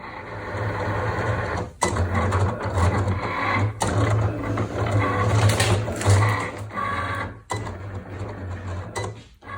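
A Cricut cutting machine slices iron-on heat transfer vinyl, giving a steady, close mechanical whir with rapid ratcheting carriage movements and brief pauses between passes, no talking.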